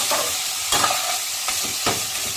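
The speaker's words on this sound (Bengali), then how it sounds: "আর ভালো করে এটাকে কষিয়ে নেব।" Crab frying in a pan with ginger paste, cumin powder and chilli powder: a close hissing sizzle punctuated by three or four quick stirring scrapes, with no talk.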